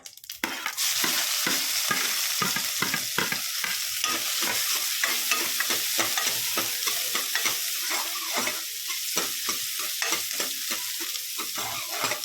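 Onion frying in a pan makes a loud, steady sizzle, stirred in quick rhythmic scrapes that continue throughout, close to the microphone with no speech.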